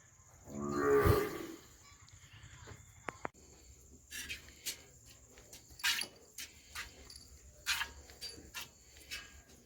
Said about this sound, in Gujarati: તો મિત્રો આપણે ગાય દોઈ લીધી હતી, રાધા જો એનું કામ કરે છે।